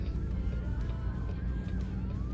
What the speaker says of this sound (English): There's some sirens.